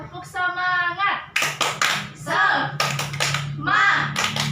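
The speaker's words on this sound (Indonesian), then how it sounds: "Ayo sama-sama ya, tepuk semangat." An elementary class of combined grades 3 and 4 performs the tepuk semangat spirit clap: sharp rhythmic bursts of many hands clapping in unison alternate with the children's chanted voices, close and lively.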